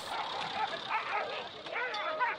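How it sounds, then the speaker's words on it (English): Dogs snarl, yip and whimper in a rough, continuous scuffle, close and fairly loud, with people's voices reacting over the noise throughout. "dogs fighting"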